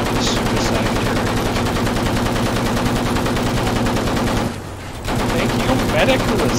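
Turret machine gun in the video game Battlefield 1 fires in a sustained, dense stream of rapid shots that stays loud almost throughout, with a short break near the end before the firing resumes.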